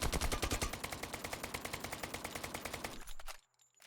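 Automatic gunfire in the video game Lost Light with the trigger held and recoil left uncontrolled, a rapid steady burst of loud shots for about three seconds that then cuts off.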